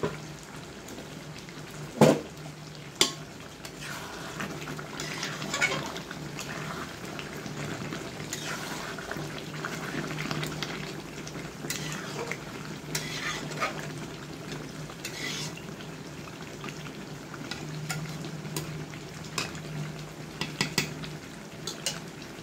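Meat for chicken biryani frying in a pan and being stirred, a steady low sizzle with scattered spoon scrapes and clinks, including two sharper knocks early on, with no talking.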